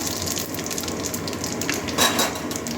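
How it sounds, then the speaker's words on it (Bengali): Dried red chillies and spices spluttering in hot tempering oil for a Bengali greens dish, a steady close crackling sizzle with a brief louder burst of spitting, heard alone. "ফোড়নে তিনটে শুকনো লঙ্কা দিয়ে দিচ্ছি"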